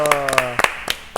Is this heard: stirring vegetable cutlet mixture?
no